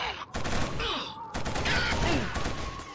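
Rapid gunfire in Killzone on PS3 during a battle, with dense overlapping shots and bursts, some whistling effects, and shouted voices mixed into the noise.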